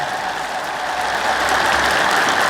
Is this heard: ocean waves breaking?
no